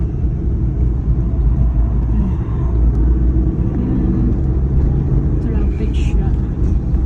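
Steady, dense street traffic in Shibuya, Tokyo forms a continuous low rumble of nearby vehicles throughout, with voices talking over it.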